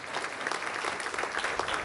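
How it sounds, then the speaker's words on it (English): Audience applause for a panel at a media industry diversity conference, a steady dense clapping from a large room with no voices on top. "Let's give our panel a round of applause."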